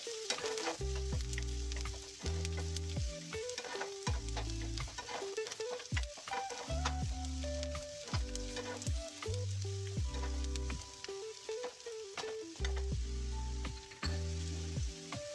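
Brinjal and chicken fry in a pan with a little sugar, a steady close sizzle broken by repeated scraping stirs that come in bursts throughout, with no talking.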